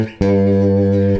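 A short electric bass fill closing the fourth bar of a simple groove bass line, one sustained note struck sharply and ringing out clearly for about a second before being cut off.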